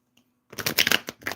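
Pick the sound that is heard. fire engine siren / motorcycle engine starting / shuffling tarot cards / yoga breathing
shuffling tarot cards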